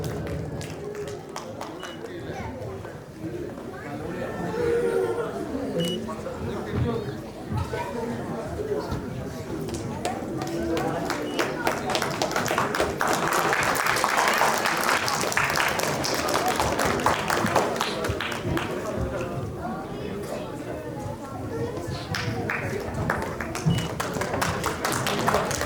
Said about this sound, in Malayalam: എല്ലാവർക്കും നല്ലൊരു കൈയടി നൽകാം.